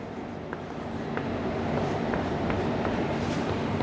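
Marker or pen writing out a math definition on a board, continuous scratchy strokes with faint periodic taps over a steady broadband hiss, moderately loud and without talk.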